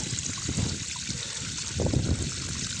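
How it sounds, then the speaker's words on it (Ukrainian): Muddy water with sand and clay flowing from a hose at an artesian well, a steady trickling and splashing stream with a low rumble of wind behind it. "І йде отака мутна вода."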